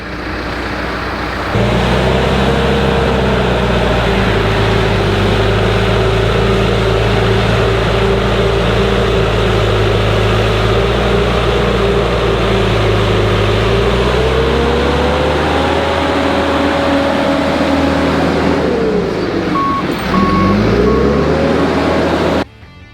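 A backhoe engine runs steadily in the open with a low rumbling drone, shifting pitch near the end as it works; no reversing beeps stand out clearly.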